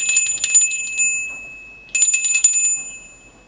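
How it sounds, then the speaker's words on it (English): A bright metallic bell rings in two bursts, each lasting about a second with a sustained shimmering ring that fades between strikes. "I'm going to ring the bell right now. So just a warning for your ears. We're ringing the bell."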